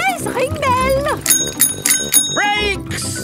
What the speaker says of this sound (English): Ring your bell. Oh yes, ring bell.